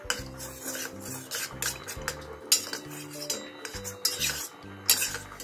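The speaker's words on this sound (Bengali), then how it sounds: "1 চামচ মতো কর্নফ্লোর নিয়েছি, তাতে একটু জল দেব, দিয়ে গুলে নেব।" A spoon stirs cornflour into water in a bowl for thickening a winter soup, giving quick, close clinks and scrapes against the bowl that repeat in a brisk rhythm with no talk.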